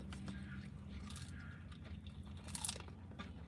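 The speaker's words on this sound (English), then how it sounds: "There's a lot crunch of the pizza base." Quiet close-up crunching and chewing of a meat pie pizza with a Four'N Twenty meat pie base, soft repeated bites with crisp crackles, alone without talk.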